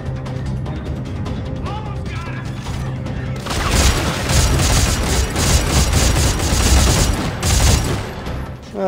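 Heavy gunfire from Dead Space 3, starting as scattered shots under game noise and then swelling into dense, continuous rapid firing for the last five seconds, loud and close.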